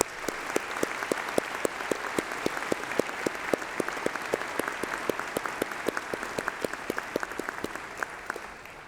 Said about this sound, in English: let's have a round of applause for all those special people, your family, your friends, and your tutors